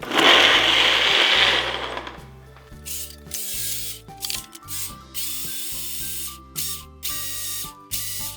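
A loud Ninja Nutri-Blender Pro on its smoothie setting whirs for about two seconds, then stops, leaving intermittent bursts of spraying noise and mechanical clunks.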